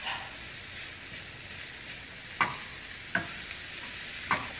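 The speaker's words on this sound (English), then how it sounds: "Give that a mix." Cauliflower rice with cilantro sizzles steadily in a pan while a utensil stirs it, with a few sharp scrapes and clicks against the pan standing out, close and with no talking.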